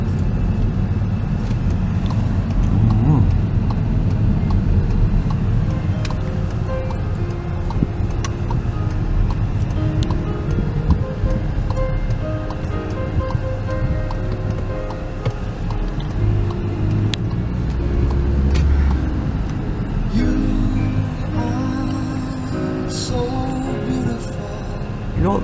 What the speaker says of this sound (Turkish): Bu kadar kalabalık, bu kadar geniş, trafik sıkı